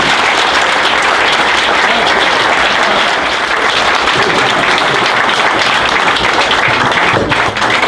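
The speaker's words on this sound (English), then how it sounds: "Can we give her one more applause" Loud, dense applause from a large crowd, sustained steadily throughout with no pauses.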